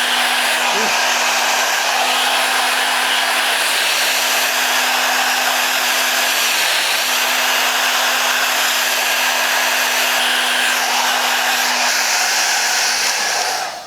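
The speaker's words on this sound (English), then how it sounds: "But I'm going to take the blow dryer." A blow dryer runs continuously at close range with a steady loud whoosh and a constant motor hum, with no talking.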